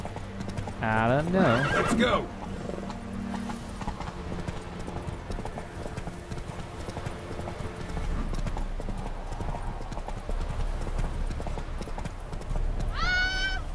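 Horse hooves clip-clop steadily in The Witcher 3: Wild Hunt, a continuous trotting patter under the game's ambience, with a whinny near the start and another near the end, and a brief spoken exchange early on.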